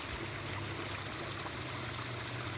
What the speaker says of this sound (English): Look way up the creek there.